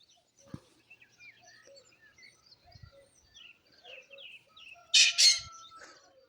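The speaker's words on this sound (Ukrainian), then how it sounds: "але так, щоб було чути от звуки села." Quiet village morning: scattered birds chirp in the distance, a few soft clucks, and a short loud rooster crowing burst near the end.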